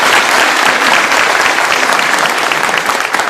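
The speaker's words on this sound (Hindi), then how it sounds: "और उसके भी लिए एक ताली बजनी चाहिए।" Loud, dense applause from an audience at a direct-selling motivational talk, many hands clapping continuously at close range with no voices over it.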